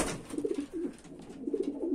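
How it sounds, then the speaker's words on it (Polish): Domestic pigeons coo softly at close range, with repeated low throaty phrases overlapping in a short run, and no talk over them. "te gołębie"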